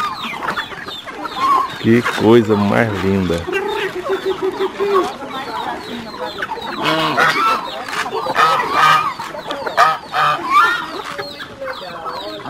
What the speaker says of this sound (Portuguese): Mutum selvagem vem todos os dias se alimentar junto com as galinhas aqui na propriedade